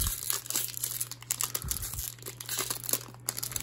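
A Pokemon Vivid Voltage booster pack being opened, with close, crinkly foil wrapper sounds and short tearing bursts that come in irregular handling bursts over a low hum.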